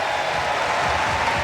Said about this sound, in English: We got to give them a big round of applause